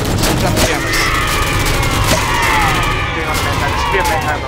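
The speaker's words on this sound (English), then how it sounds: "Shoot down the jammers" Rapid bursts of gunfire in the Halo 4 campaign as players shoot down jammers, loud and continuous with dense overlapping shots and booms, game effects layered throughout.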